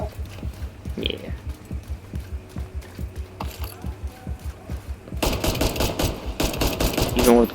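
Pistol gunfire in the video game The Division 2, a quick series of sharp, evenly spaced shots rattling at moderate loudness, followed by a denser burst of louder firing and game effects near the end.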